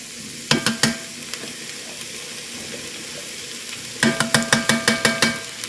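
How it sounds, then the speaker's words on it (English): Minced jarred garlic and onion sauté in a hot pan with a steady, moderate sizzle, broken by two bursts of sharp, rhythmic utensil scrapes and taps against the pan, one near the start and a longer run toward the end. "Now we're just going to let this saute."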